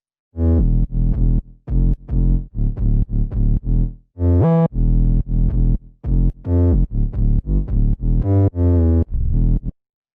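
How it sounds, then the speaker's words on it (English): A heavy, distorted trap sub bass plays in a rhythmic pattern of sustained low notes with short gaps, loud and close, with no voices. "we added this trap sub."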